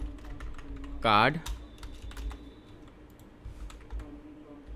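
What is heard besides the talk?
typing on a computer keyboard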